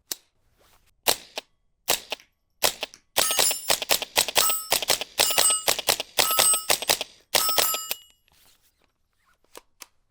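A suppressed Tippmann M4-22 rifle firing Winchester Super Suppressed .22 rounds: sharp, fairly quiet cracks with metallic clinks, starting sparse and then running into a quick, irregular string of shots before stopping.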